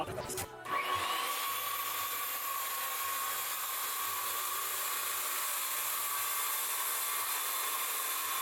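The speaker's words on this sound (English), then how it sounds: "Cutting smaller panels this way is just as easy as cutting the larger ones." A power saw cuts small wooden panels for a minimalist half-deck on a Toyota Tacoma short bed, running as a steady, loud, continuous whine for several seconds after a brief start, with no voices.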